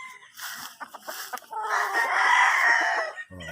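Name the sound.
fighting roosters crowing and clucking on a farm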